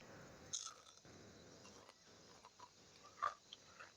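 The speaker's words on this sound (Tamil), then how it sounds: "கடிக்க நல்லா பொரிஞ்சு வடிவாக கடி வருது" Someone biting and chewing a crispy fried cassava vada, with a handful of soft crunches and crackles spaced irregularly, quiet and close with no talking.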